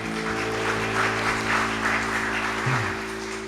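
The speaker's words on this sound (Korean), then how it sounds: "네, 하나님께 영광의 박수 올려드립니다." Church congregation applauding during a Sunday worship service, a steady clapping wash over sustained organ or keyboard tones, moderately loud and continuous.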